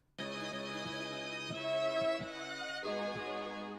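A moody, sustained musical phrase with a rich tonal chord and a low pulsing bass pattern underneath, clean and moderately quiet.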